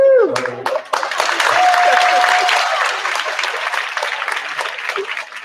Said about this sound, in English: another reason to give Mr. Condon a round of applause